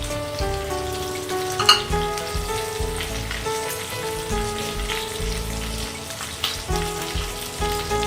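Raw banana and potato pieces frying in oil, with slit green chillies tossed in, a steady close sizzle like rain on a surface and a few sharper crackles, heard alone without talk.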